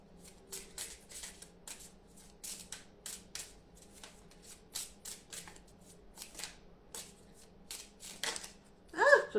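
Oracle cards being shuffled by hand, a string of quick papery riffles and flicks at close range in a quiet room, ending with a louder clatter as two cards jump out together.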